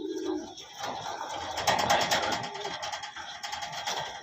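Racing pigeons coo softly around a loft, a few low rolling calls mixed with rustling and background clatter while people talk nearby.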